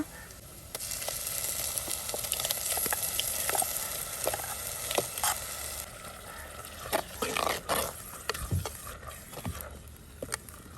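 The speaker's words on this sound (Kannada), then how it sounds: "ಒಳ್ಳೆ ರೀತಿಯಲ್ಲಿ ಮಸಾಲಾನ ರೋಸ್ಟ್ ಮಾಡಬೇಕೀಗ" Green masala paste with onions roasting in a pan for pomfret fish curry, a soft steady sizzle with occasional scraping stirs and small pops, close by.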